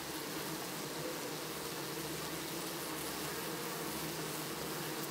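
Honey bees fed a drop of honey from a syringe give a steady, dense buzzing hum, close up and continuous, with no voices.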